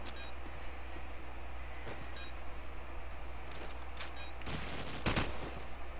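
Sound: gunfire in the video game Call of Duty 4

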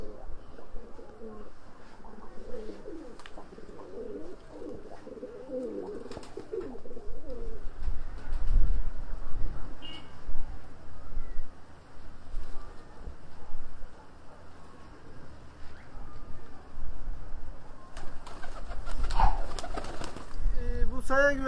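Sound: black-bibbed pigeons cooing

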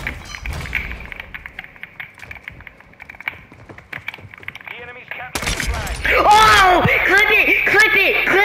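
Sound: sniper rifle no-scope gunshot in a video game

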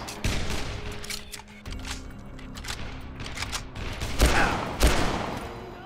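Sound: machine gun fire in Dead Island video game

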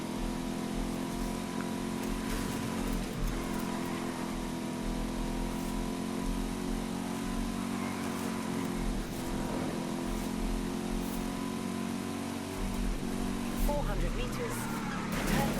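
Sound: car engine driving in the video game Forza Horizon 5

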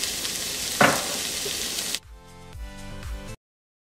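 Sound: onions frying with salt in a pan

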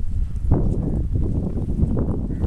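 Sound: donkey hooves walking, carrying a load

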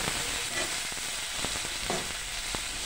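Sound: onion, garlic and ginger frying in oil

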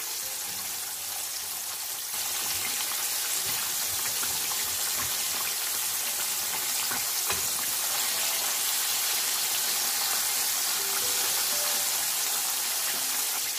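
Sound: chicken frying in oil on medium flame

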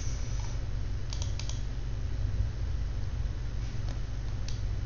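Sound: typing a web search on a computer keyboard

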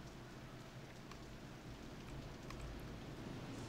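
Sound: rain in video game Roller Coaster Tycoon 3

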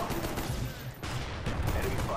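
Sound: M14 rifle gunfire in Call of Duty Black Ops video game

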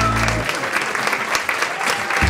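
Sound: applause for a school cook

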